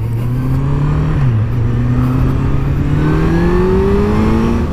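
A 2016 Kawasaki Z800 ABS motorcycle accelerates under light throttle, its engine note climbing steadily and loud throughout, with a brief dip as it shifts.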